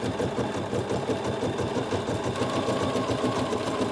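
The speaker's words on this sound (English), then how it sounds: "now it's going to start sewing my design" Bernina 7 series sewing machine with embroidery module stitching a design at half speed, a steady, close, rapid mechanical whirring and clatter that runs without a break.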